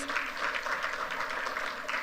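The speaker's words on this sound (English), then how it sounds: "Another round of applause for our debaters." A brief round of audience applause for the debaters at an engineers' debate event, steady mid-level clapping from a crowd lasting a couple of seconds.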